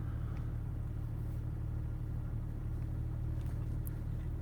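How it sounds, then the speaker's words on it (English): Inside a car, a steady low engine rumble hums continuously at a moderate level with no talking. "I am in my car, yes."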